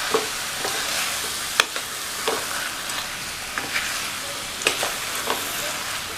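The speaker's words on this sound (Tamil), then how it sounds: "அரிசியை சேர்த்ததுக்கப்புறமா நல்லா ஒரு தடவை மெதுவாக மிக்ஸ் பண்ணி விட்டுருங்க." A spoon scrapes and stirs basmati rice in a pot while biryani cooks, giving soft irregular scraping strokes and light clinks over a steady sizzling background, close and moderately loud, with no voices.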